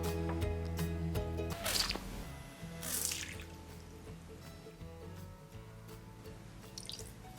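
A Philips Ultinon Pro9000 LED fog-light lamp is dipped into a glass container of ordinary water, giving quiet splashes, drips and sloshing near the start, then soft trickling fading into a faint hum.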